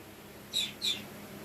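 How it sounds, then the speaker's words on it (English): A pet bird indoors gives two quick, piercing high-pitched calls in rapid succession, moderately loud and close against a quiet room background. "I'm going to have to do a lot of editing to get this squawking crazy bird out of the video"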